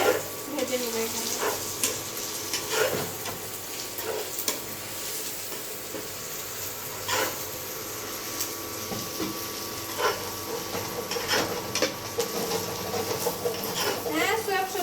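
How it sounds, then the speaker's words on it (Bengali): Cinnamon, white and red cloves and black pepper fry in hot oil, giving a steady sizzle with repeated scraping stirs and utensil clicks throughout. "এগুলো আমি দিয়ে ভালো করে ভেজে নেব এখানে।"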